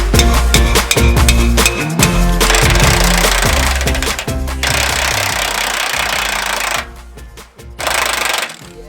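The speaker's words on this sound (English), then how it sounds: "Hammer it in." A control arm bolt being driven into place with rapid, loud, repetitive mechanical pounding in bursts, with brief pauses between runs, heard close by.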